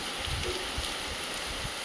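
Heavy rain falling, a steady broad wash of water noise with faint low thuds of drops hitting a surface nearby.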